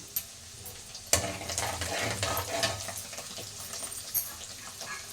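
Garlic and chopped cashews frying in a pan while being stirred, a quiet steady sizzle that swells after a sharp clink, with scraping stirs running underneath and no talk.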